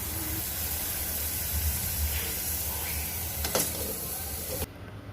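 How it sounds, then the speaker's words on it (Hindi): A pot of vegetable curry boiling on a home kitchen stove gives a steady, close steaming hiss and bubbling rush, with a brief louder burst of spray near the end before it drops away suddenly. "यहाँ पे देखिए मेरी सब्ज़ी उबल गई है"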